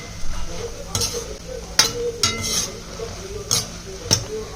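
Fox nuts (makhana) and edible gum roast in a pan over medium heat with a soft frying crackle, punctuated by several sharp spoon scrapes and clinks against the pan.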